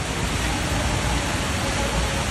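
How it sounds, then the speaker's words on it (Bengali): Steady, dense rain hiss fills a botanical garden without a break, loud and close, with no voices. "বাইরে ভালোই বৃষ্টি হতেছে"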